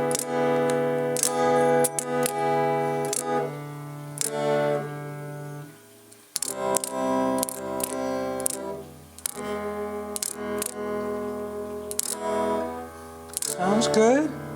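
An old Stratocaster electric guitar, newly rebuilt, plays through its neck pickup with some tone rolled off. Clean chords and single notes ring out in bursts with short pauses between them, and a flurry of quick picked notes comes near the end.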